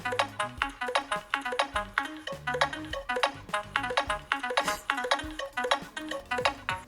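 Punchy electronic ringtone melody from a sound pack on a Nothing Phone (2), with a thumping bass pulse, looping in a steady dance rhythm, clear and close.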